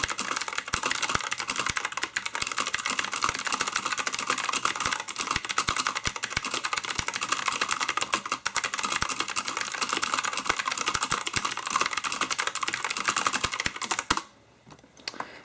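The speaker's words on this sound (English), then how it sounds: "here's a demo of the sound that it produces in a quick typing test." Rapid, continuous clicking of a Molong RGB 104-key mechanical keyboard being typed on quickly and up close, stopping abruptly near the end.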